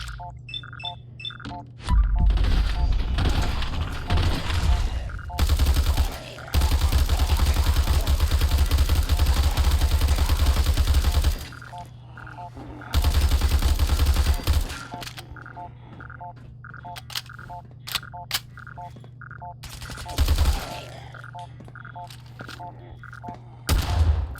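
Fallout 4 video game gunfire with a horror mod running: long, loud sustained bursts of automatic fire broken by short pauses, over a steady game soundscape.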